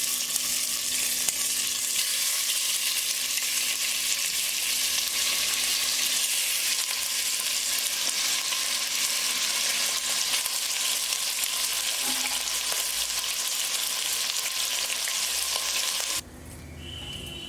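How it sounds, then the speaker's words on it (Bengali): Flour-and-salt coated chicken pieces frying in hot oil give a loud, steady, close sizzle that runs unbroken for most of the stretch, then drops abruptly near the end. "চিকেনটাকে একটু ময়দা আর একটু নুন দিয়ে ভালো করে মাখিয়ে ওটা ভাজবো।"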